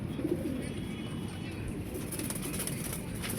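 Teddy pigeons coo softly at close range, with low murmuring calls and a brief flutter of wings, faint over a steady background hiss.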